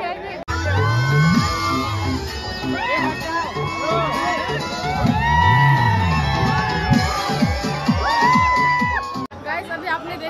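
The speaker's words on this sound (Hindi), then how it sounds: "गाइस अभी आपने देखा ही जो डांस हो रहा था, तो यहाँ पे काफी ज्यादा भीड़ है।" A large, dense crowd at the Kakari Mela fair gathers around a dance performance, producing a steady roar of chatter, shouts and children's cries, with loud music and voices mixed throughout and a brief cut near the start.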